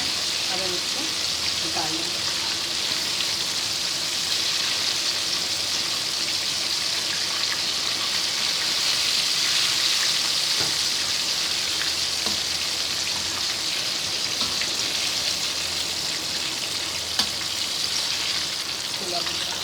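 Korean fried chicken frying in hot oil, a steady, loud, crackling sizzle that runs continuously without a break, with faint clinks here and there.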